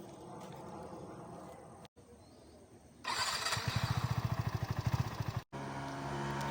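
A Yamaha R15 V4 155cc motorcycle riding past, starting as a faint engine hum and then swelling into a loud, close, pulsing exhaust note that breaks off sharply before a quieter engine tone returns.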